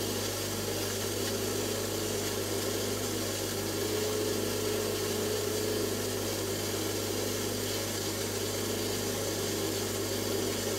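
A power saw cuts through an agate stone with steady, loud, unbroken grinding noise. The sound holds constant for the whole stretch, with no pauses or change in pace.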